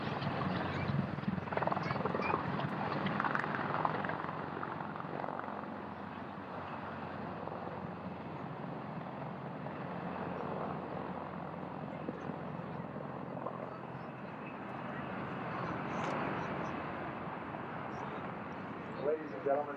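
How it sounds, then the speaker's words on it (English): A departing CH-53 helicopter's rotor thrum and engine whine drone steadily at a moderate distance at a 1991 military air show, a voice speaking over a public address system above it. "You'll notice we have a couple of CH-53 one CH-53 helicopter departing at this time."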